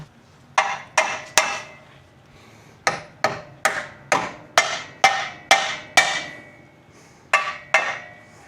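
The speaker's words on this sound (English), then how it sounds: "I'm gonna hammer and tap all that in." Repeated metallic hammer taps on a 2015 Subaru Forester ball joint, about a dozen sharp strikes in uneven bursts with short pauses between groups, close and ringing briefly.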